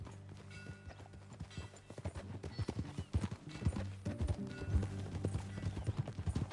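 Horse hooves clip-clopping in the Red Dead Redemption 2 video game, a rhythmic trot of hoofbeats set against a low droning game soundtrack, with a brief whinny.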